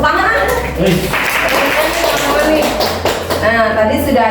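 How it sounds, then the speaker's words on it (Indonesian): A class of students claps together after a teacher's lesson on positive school culture, a dense round of hand claps over ongoing voices and room murmur. "Tepuk tangan."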